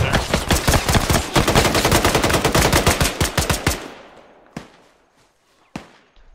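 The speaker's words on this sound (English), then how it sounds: "Top of the factory, I'm hearing a lot of gunfire." Sustained automatic gunfire from ARMA 3 in an Early 2000 Delta Force combat mission: rapid, loud close bursts for about four seconds, then two isolated single shots echoing afterward.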